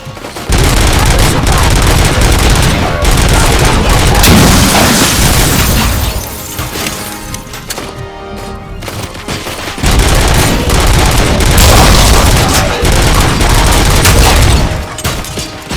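Loud, dense automatic gunfire and booming blasts from a Robocop: Rogue City combat scene, a sustained barrage that drops away briefly near the middle and then resumes just as heavy.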